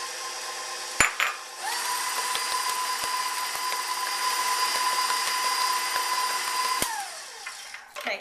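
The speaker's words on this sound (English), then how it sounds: "I'm going to add my eggs one at a time, and I'm going to beat well after each addition" An electric hand mixer beats eggs into cheesecake batter for an Irish cream caramel cheesecake, a steady whirring drone held for about five seconds with a clink at the start and a rattling stop near the end.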